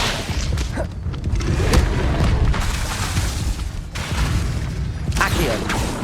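An Incendio fire spell is cast in Hogwarts Legacy, producing rumbling booms and whooshing bursts of flame over a dense, continuous game soundscape with repeated impacts, loud and close.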